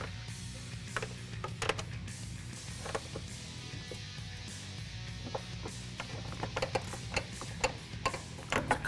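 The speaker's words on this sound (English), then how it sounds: "A couple turns though with the ratchet will get it loose" A small ratchet loosens the nut on a Jeep Wrangler hood catch, making soft, quick clicking in short bursts over a low background hum.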